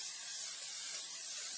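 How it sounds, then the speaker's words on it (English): Cooking spray hisses in a continuous burst from an aerosol can into a crock pot, close and steady for over a second with nothing else heard. "I'm going to spray my crock pot."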